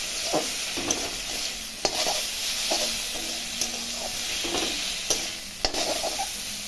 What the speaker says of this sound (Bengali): এর সঙ্গে এখন সবগুলো একসঙ্গে ভাজা ভাজা একটু করে নেব।